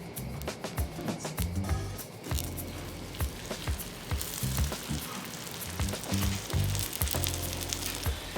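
Malawah dough fries in a pan with a continuous crackling sizzle, moderately close, with occasional small pops and stirring sounds, and no talking.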